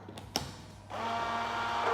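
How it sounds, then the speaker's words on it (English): A blender starts up on gluten-free pizza dough ingredients, including molasses, almond meal or plant milk powder, after a couple of sharp clicks, then settles into a steady whirring motor hum, close and alone. "let's blend this up"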